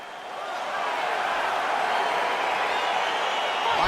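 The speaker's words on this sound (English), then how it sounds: "crowd getting excited as this fight gets underway" Crowd in a UFC 4 video game arena building into a sustained roar as a heavyweight fight begins, a broad rising wash of cheering that swells gradually and stays loud to the end.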